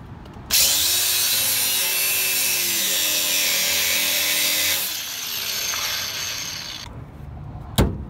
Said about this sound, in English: I'm just gonna cut it off again, getting my grinder in here